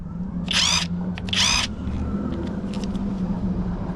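A Skil 3285 XP cordless impact wrench loosening car wheel nuts fires two short, sharp, buzzing bursts about a second apart, close and loud, over a low steady background rumble.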